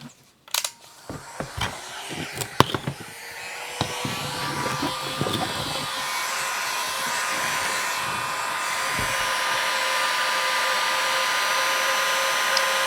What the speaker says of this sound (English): Now I use the heat gun to remove stickers